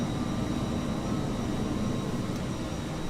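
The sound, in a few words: A320 airliner engines on tarmac in Microsoft Flight Simulator video game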